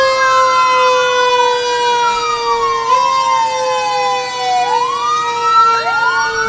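Siren of a 1950 Ford Rescue Squad fire truck at a Fourth of July parade, several loud wailing tones rising and falling together, close and continuous with no talk.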